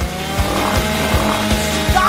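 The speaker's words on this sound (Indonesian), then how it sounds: "Singkirkan gergaji itu sekarang. Tenang, aku membutuhkannya untuk memotong Twix." A saw cuts through a Twix chocolate bar in a kitchen challenge, giving a harsh mechanical drone with regular rhythmic strokes about three times per second, steady and fairly close.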